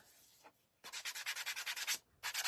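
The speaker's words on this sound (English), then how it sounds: "kind of give it a good sanding" Rhythmic sanding strokes rasp back and forth, a short pass followed by a quick run of about ten even, close-up scrubs, then a pause and another stroke.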